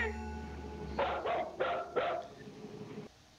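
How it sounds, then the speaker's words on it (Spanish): A dog barks four times in a quick burst, somewhat distant and muffled, over a steady low background hum. "No se anima a pasar y ladra."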